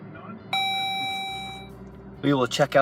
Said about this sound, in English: As we wait for the beeping to stop